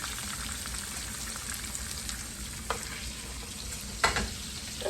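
A thick steak burger patty cooking slowly in a pan gives a steady, moderate sizzle throughout, broken by a couple of brief louder crackles near the end and no talk.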